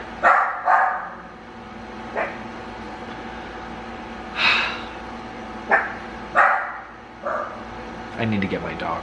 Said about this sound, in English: I need to get my dogs to stop barking.